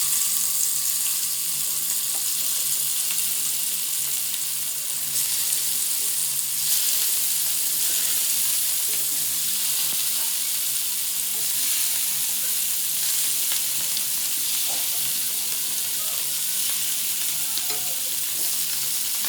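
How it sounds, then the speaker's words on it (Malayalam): Masala-coated river fish fry in hot coconut oil in a pan over a village-style stove, giving a loud, continuous hiss and crackle that stays steady throughout with no talking. "ഇനി മസാല തേച്ച് വെച്ച മീൻ ഫ്രൈ ആക്കി എടുക്കാനും വേണ്ടിയിട്ട് ഒരു പാൻ അടുപ്പിൽ വെച്ചിട്ട് വെളിച്ചെണ്ണ ഒഴിച്ചിട്ടുണ്ട്"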